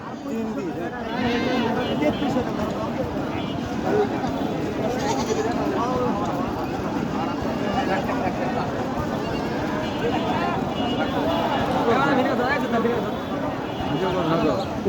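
Goats bleat at the crowded Katla livestock market, their calls half buried in a dense, steady wash of crowd chatter and people talking nearby.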